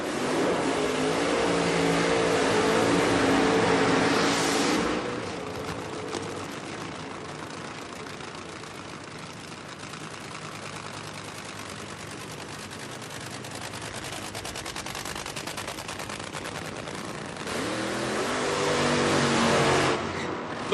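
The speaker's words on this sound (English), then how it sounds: "The funny cars do a slightly longer burnout" Nitro-burning drag racing funny cars roar through burnouts, a loud crackling engine blast at the start and again at the end with a lower sustained rumble between, at a 1999 Bristol, Tennessee showdown.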